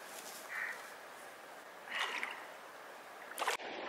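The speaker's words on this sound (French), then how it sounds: "regardez ce ruisseau d'un mignon sur cette randonnée qui se faufile comme ça" A small mountain stream in the Val d'Aran runs over rocks beside a hiking trail, giving a soft, steady trickle and gurgle with a few brighter splashy bursts, heard close and fairly quiet.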